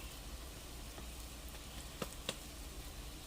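Salmon croquettes fry in light avocado oil, giving a faint, steady sizzle with a couple of brief sharp pops near the end and no talking.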